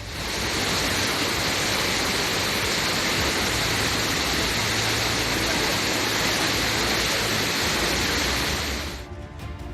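A flooded river in heavy monsoon rain rushes past in a loud, steady roar of turbulent water with no voices, holding constant before cutting off just before the end.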